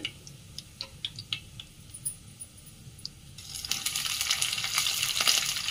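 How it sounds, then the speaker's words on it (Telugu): Green chillies frying in oil for a bitter gourd fry: a few light ticks and clinks at first, then a steady, louder hiss of sizzling oil that fills the rest of the clip. No one speaks. "ఇప్పుడు పచ్చిమిర్చి వేగిందండి"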